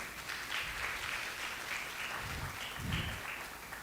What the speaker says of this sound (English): let's give a round of applause to Ms. Tahira Banks